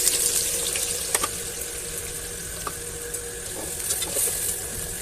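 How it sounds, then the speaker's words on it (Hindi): Cumin seeds and onion frying in hot oil in a pan give a steady, close sizzle with a few spoon scrapes and clinks, and no one speaks. "ज़ीरा जब फ्राई हो जाए, ब्राउन हो जाए ज़ीरा, तो हम इसमें प्याज ऐड कर दें"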